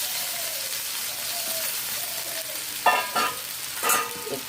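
Cauliflower roast masala, thinned with a little water, is stirred in a pan: a low wet sizzle runs throughout, broken near the end by a few sharp spoon scrapes and knocks, close up, without speech.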